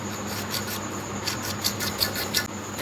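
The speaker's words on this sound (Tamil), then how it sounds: "இதை வந்து 45 டிகிரி வந்து கட் பண்ணணும்" A PVC pipe being cut at a 45-degree angle, close-up rasping strokes with a short run of sharper scraping pulses toward the end, with no talking.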